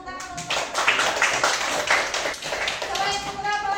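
Classroom applause from students, a steady patter of many hands clapping at moderate volume, with voices mixed in underneath throughout.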